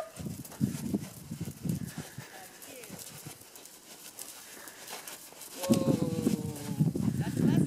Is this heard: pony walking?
yes